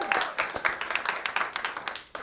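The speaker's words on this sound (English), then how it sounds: "Let's give a round of applause." A studio audience claps for a singer on a comedy talk show, a moderate, uneven patter of hands that swells and dips in rapid bursts before briefly cutting off near the end.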